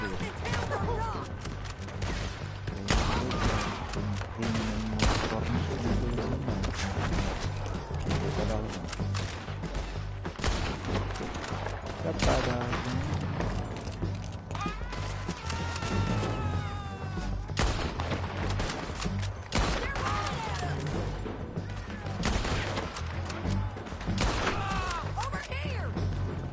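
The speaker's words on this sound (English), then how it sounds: "Keep shooting until they're not." Dense, sustained gunfire in Red Dead Redemption 2, volleys of shots overlapping almost without pause, with crashes and thuds mixed in under shouted talk from several voices.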